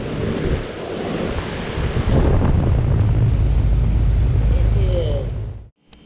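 A Broad Ocean fan motor drives the outdoor fan of a Goodman heat pump, producing a loud, steady whooshing roar of moving air up close before the sound cuts off abruptly.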